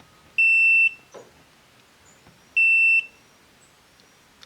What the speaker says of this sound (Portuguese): Aqui no BIP é interessante para medir continuidade